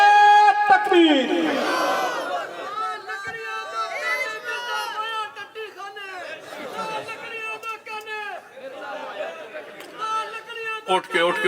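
Crowd at a religious gathering chanting Naara-e-Takbeer and similar slogans, loud rhythmic call-and-response shouts from many voices rising and falling in bursts.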